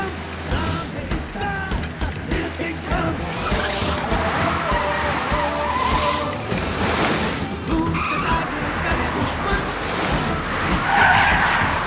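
A cartoon car speeds away with a long, loud skid and screech under a busy music and effects track, with an engine whine running throughout.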